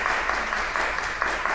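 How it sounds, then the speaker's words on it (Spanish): Dense, even applause from an audience at a panel discussion in a conference hall, close and fairly loud, continuous throughout with no talk. "los podemos aplaudir"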